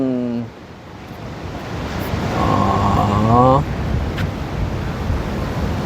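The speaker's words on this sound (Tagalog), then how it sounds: "Ah, lakas ng hangin, malaki din yung alon." Strong wind roars over the microphone while ocean waves rumble steadily on Siargao Island, and a person speaks briefly over the noise.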